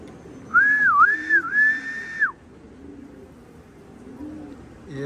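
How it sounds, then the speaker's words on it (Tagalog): A racing pigeon coos near a loft rooftop, a clear wavering whistle-like call lasting about two seconds, then quiet low background murmur with a brief rustle at the end. "ayun mga ibon na yun, napakabilis"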